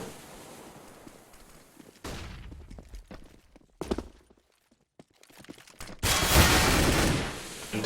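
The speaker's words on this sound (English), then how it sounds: "Ash with the first frag opens up on Roop." Gunfire in the Counter-Strike video game on the Cache map comes in scattered bursts and shots amid game noise, with louder bursts near the end and a caster's commentary faintly under it.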